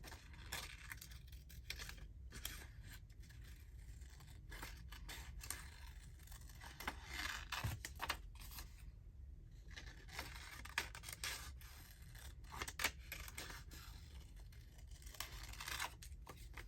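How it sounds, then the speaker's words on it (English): Scissors trimming Florentine paper for a journal: a long run of close, quiet snips and crisp paper rustles in an irregular rhythm, without speech. "I'm trimming off a bit more just because it's very big and I need it to fit."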